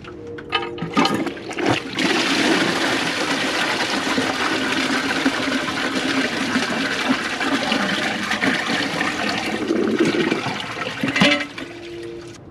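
A 2015 Kohler Wellworth toilet with a Class 5/Portrait Lite tank flushing, a loud close rushing swirl that builds, roars steadily for about ten seconds, then trails off into trickling refill.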